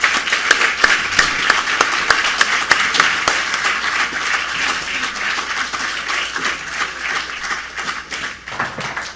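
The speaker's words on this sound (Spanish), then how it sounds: "con un aplauso para usted" A crowd at a lecture applauds steadily, with a few sharp individual claps standing out early on, then the clapping thins slightly toward the end.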